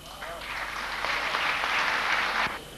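Audience applause at an Urdu mushaira poetry gathering, a dense, steady wash of clapping from a sizable crowd that swells in and holds for a couple of seconds before cutting off, with a brief voice at the start.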